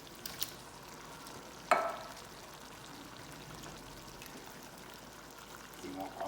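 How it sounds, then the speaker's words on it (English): Beans and their juices pour from a can into a pot of chili, a soft wet trickling and sloshing over a faint background hiss, with a brief clink near the start. "Then we're gonna start dumping our beans."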